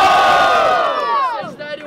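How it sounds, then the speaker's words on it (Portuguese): Crowd at a student rap battle semi-final in Guarulhos, São Paulo, roaring and cheering loudly for a vote, a dense swell of shouts that fades slightly toward the end. "quem gostou das rimas de Derry faz muito barulho"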